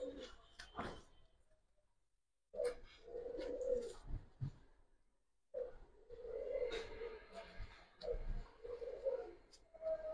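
Caged Giribaz pigeons coo in low, throaty, repeated bursts, close and fairly quiet, with short pauses between calls.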